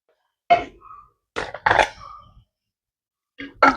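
A person coughs in a home kitchen while mustard seeds splutter in hot oil, giving three close, harsh bursts separated by short pauses.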